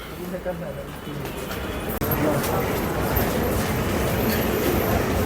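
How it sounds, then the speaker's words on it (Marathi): A train rumbles steadily beside a railway station platform in Palghar, a loud continuous roar with rattling, and a voice talks over it. "हे आहे पालघर स्टेशन"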